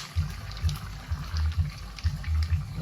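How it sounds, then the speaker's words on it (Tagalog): Menudo stew boiling in a cooking pot, giving low, soft bubbling bursts that come in an irregular rhythm, close by and fairly quiet, with no talking. "ito na po siya, kumukulo na"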